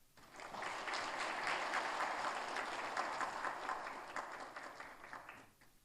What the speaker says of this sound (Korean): 출산 축하금 전달합니다. 박수.